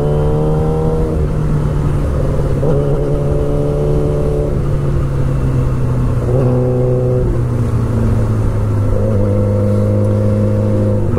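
Yamaha R6 sport motorcycle engine revving hard while being ridden on a road, close and loud, climbing through several gear changes with brief dips between pulls and no talking.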